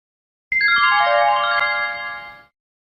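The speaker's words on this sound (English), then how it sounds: "Your number's ringing now." A telephone rings once through a handset line, a bright electronic descending chime that sounds for about two seconds before stopping, alone with no voices.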